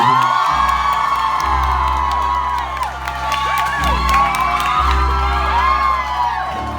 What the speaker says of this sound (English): Can you please give a big round of applause to Daniel Lapo over here?